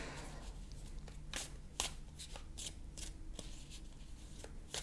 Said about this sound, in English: Let's shuffle properly, right?